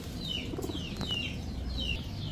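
Red Gola pigeons kept in pairs for sale, cooing and calling repeatedly over steady background noise, with soft rhythmic calls and faint wing rustles at moderate distance and no talking.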